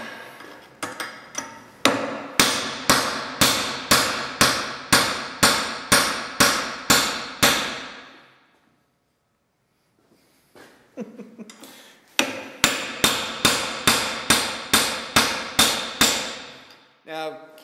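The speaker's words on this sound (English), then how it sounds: "This is a bronze hammer now." A bronze hammer striking stainless steel in a steady series of loud, ringing metallic blows about half a second apart, a pause of a few seconds with faint rustling, then another even run of strikes.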